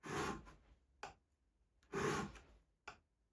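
Plane blade from a rusty block plane being sharpened by hand on a fine diamond plate: two long, close gritty strokes, each followed by a short tap, in a quiet room.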